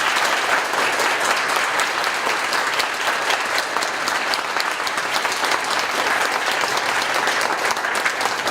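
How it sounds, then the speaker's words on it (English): An audience at a school board candidate forum claps steadily and loudly, producing a dense, even wash of applause that carries on without a break. "can we give our candidates one more round of applause?"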